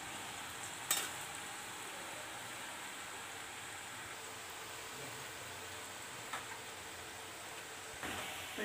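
Murukku dough made with roasted gram sits frying in hot oil, giving a steady, soft hiss throughout, broken by a few brief clinks and bumps.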